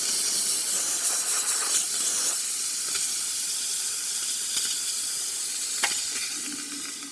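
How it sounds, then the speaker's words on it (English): Steam wand on a Quickmill Vetrano espresso machine blasting a loud, continuous, close hiss at strong pressure. It holds steady throughout with faint crackles and tapers slightly at the end. "Really great pressure on the steamer."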